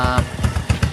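A motorcycle on its stock exhaust pipe runs close by with a throbbing idle, loud evenly spaced pulses thumping a few times in just a second.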